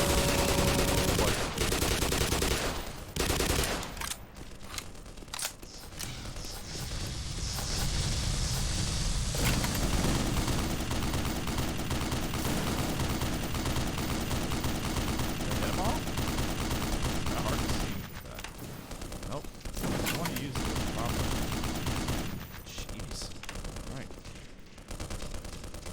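Rapid, dense gunfire from the video game Black Mesa, with ricochets, rattles on in loud sustained bursts for most of the stretch, dipping briefly between volleys, with a voice talking over it at times.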